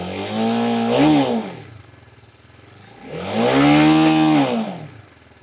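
A TVS Apache 310 motorcycle engine revs twice through its exhaust, each burst climbing then falling back to idle, loud and close with no talking.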